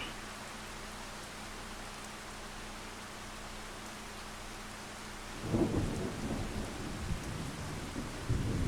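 Rain in Farming Simulator 25 falls as a steady hiss, with a low rolling rumble of thunder breaking in after about five seconds and lingering to the end. No one speaks.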